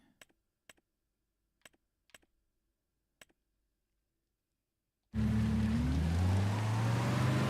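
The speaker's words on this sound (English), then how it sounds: "the engine sounds kind of annoying on this" Engine of a farm vehicle in Farming Simulator 25 drones steadily and loudly after a few sparse keyboard clicks, a continuous rising motor tone taking over the last couple of seconds.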